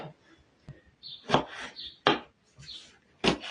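Peppers chopped with a knife on a cutting board: a handful of sharp, irregular knocks close by, with soft rustling between them.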